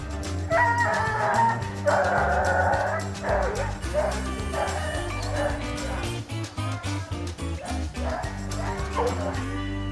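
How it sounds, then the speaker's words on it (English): Hunting hounds on a bear hunt bay and bark almost without pause for ten seconds, several dogs overlapping in a dense, loud chorus. "Turn a couple dogs out and see if they can line it out."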